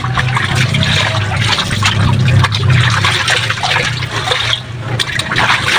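Water draining and splashing out of a laundry tub or basin at home to keep it from overflowing, a loud, continuous rushing gurgle close by that fills the whole stretch.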